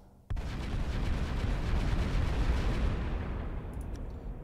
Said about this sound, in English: Plasma guns.